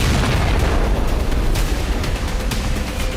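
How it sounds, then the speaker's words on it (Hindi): Explosions from Israeli strikes hit Al Hudaydah port in Yemen. A loud, continuous low rumble carries several sharp booms and bursts, with no speech over it. "इजराइल के बदले वाले एक्शन की वजह से अल हुदैदा बंदरगाह में कई धमाके हुए"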